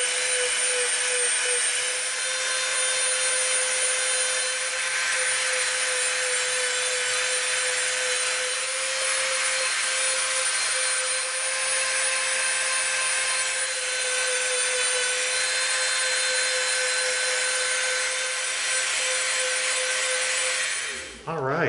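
A rotary tool fitted with a smoothing bit shaping EVA foam for a prop raygun, running as a loud, continuous high whine at a steady pitch for the whole stretch before stopping right at the end.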